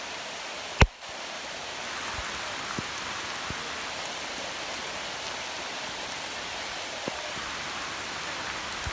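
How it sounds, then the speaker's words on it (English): Steady rain pours down outdoors at a state park in August, a dense even hiss filling the scene, with one sharp knock near the start and a few faint drips or taps scattered through. "It's really raining."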